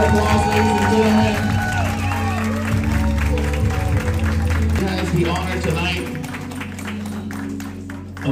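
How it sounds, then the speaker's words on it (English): Guests at a quinceañera clap and cheer under loud music, with the applause continuing as the music carries on and then thins out near the end. "loud round of applause, ladies and gentlemen."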